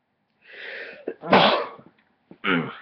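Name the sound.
sneeze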